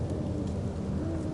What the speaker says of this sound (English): The storm.